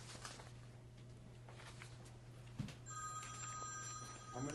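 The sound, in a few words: telephone ringing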